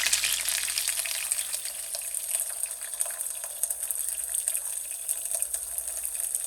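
Onions fry in oil for smothered pork chops, giving a steady, fairly loud crackling sizzle with scattered small pops throughout and no talking.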